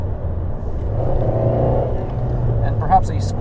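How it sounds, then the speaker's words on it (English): Fiat 124 Spider engine droning inside the cabin with the roof up, a steady low hum under someone talking throughout. "So, with the roof up, I can actually hear a bit more engine noise."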